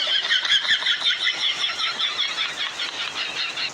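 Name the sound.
vehicle engine starting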